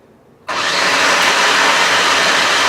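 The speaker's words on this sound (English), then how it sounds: "Just going to pulse all the cucumbers" Food processor pulsing cucumbers chopped fine for cucumber lemonade, starting abruptly after a quiet moment and then whirring loud and steady without pause.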